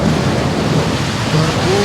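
Heavy pre-monsoon thunderstorm rain pouring steadily over a village lane, a dense, loud hiss of rainfall with low rumbling underneath, continuous throughout with no voices.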